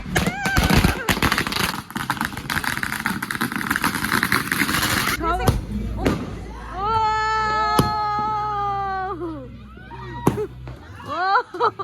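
Firecrackers pop in rapid sharp bursts at a foggy New Year celebration, dense crackling at first, then scattered bangs while people shout and talk nearby.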